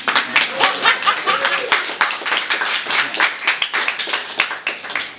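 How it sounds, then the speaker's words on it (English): An audience claps after a poetry reading, a dense round of close hand claps with a few sharper individual claps and faint laughter mixed in. "I think you can clap."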